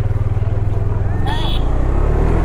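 KTM Duke 390 motorcycle riding off, its engine a steady loud low rumble throughout with a brief higher whine near the middle; a voice is briefly heard over it.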